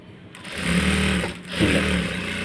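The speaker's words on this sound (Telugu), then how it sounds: "పెట్టేసి చక్కగా ఇప్పుడు మనం దీన్ని పైనుంచి కుట్టు వేసుకోవాలి." Sewing machine stitching along a blouse border piece with maggam work, a close, steady mechanical whir in two runs separated by a short pause, with no talk.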